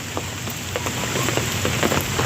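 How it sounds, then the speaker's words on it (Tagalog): Heavy rain pours down during Typhoon Paeng, a dense steady hiss with scattered louder drops pattering on a nearby surface, with no talk. "Pabugso-bugso yung ulan pabugso-bugso yung hangin."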